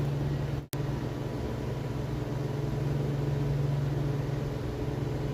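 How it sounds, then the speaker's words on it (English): A constant low droning hum of a heater running steadily, with a brief click-like break near the start and no talking. "My heater is kicking on from time to time and it's a little bit cold outside."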